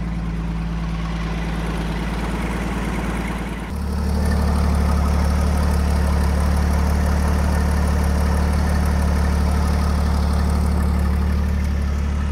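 A Jeep engine idles steadily while warming up after its cooling hoses were replaced, a close, continuous rumble with a low hum that drops and deepens into a heavier, fuller drone a few seconds in.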